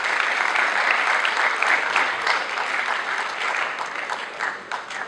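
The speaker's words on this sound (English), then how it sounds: "I want y'all to give him a warm round of applause" An audience at a high school assembly claps in steady, dense applause that continues throughout and thins slightly toward the end.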